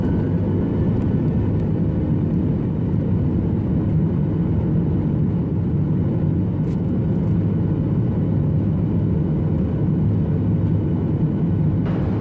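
A ValuJet airliner's jet engines roar at takeoff power, a loud, steady, broadband rumble that holds constant throughout with no pauses.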